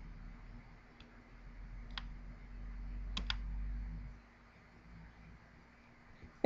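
A few sparse, faint key clicks on a computer keyboard as job activity data is entered, heard over a quiet low hum with no talking.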